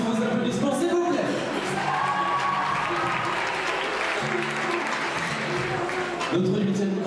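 Audience at the Miss Saône-et-Loire 2014 beauty pageant applauding a contestant, sustained thick clapping from a large crowd over faint background music, easing slightly midway and then rising again.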